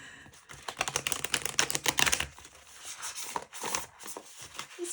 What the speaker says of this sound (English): This is a lovely deck to shuffle.